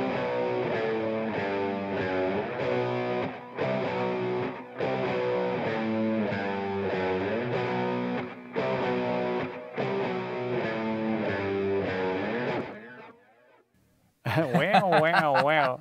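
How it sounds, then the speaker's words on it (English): Heavy distorted electric guitars play sustained chords in a steady rhythmic pattern, loud and close, ending with a brief pause and a burst of fuzzy noise. "we added some distorted guitars to make a difference."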